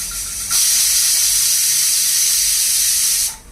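A pressure cooker cooking khichdi releases steam with a loud, steady hiss that starts abruptly, holds for about three seconds and then cuts off. No voices are heard.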